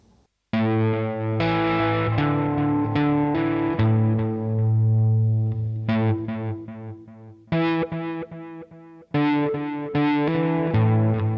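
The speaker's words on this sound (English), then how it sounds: "And this is InstaWah." Electric guitar run through a ZOIA InstaWah preset, loud and continuous, with sustained distorted chords and phrases shifting pitch in swelling, effected tones, pausing briefly between passages.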